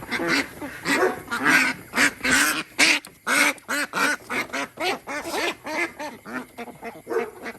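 A dense flock of laying ducks at a farm quacking loudly and continuously, many overlapping calls in a rapid, busy chorus close by.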